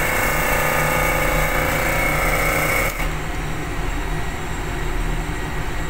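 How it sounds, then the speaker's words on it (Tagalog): An electric motor started forward on 220 volts through a forward-reverse motor controller, a steady loud hum and whine that drops slightly in level near the middle, then continues running evenly. "the motor will run to forward."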